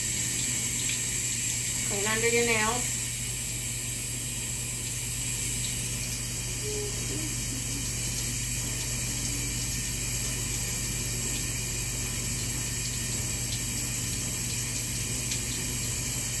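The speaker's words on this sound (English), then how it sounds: "Under running water." Water runs steadily from an operating-room sink tap during a surgical scrub with a betadine-impregnated brush and nail pick, a continuous broadband hiss throughout while a voice speaks briefly near the start.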